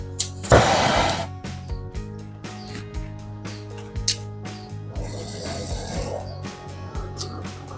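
Tools at work on the discharge and suction lines of a Samsung inverter refrigerator during repair: a sharp clatter near the start, then scattered metallic clicks and ratcheting taps over a low hum, close by with no talking.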